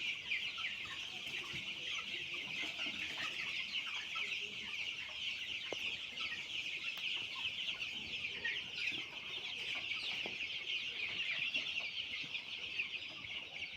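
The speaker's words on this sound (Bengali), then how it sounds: "এগুলো আমার কালার বাট মুরগি।" Colored chickens on a farm cluck in a steady, busy chorus throughout, with bright overlapping calls and no talking.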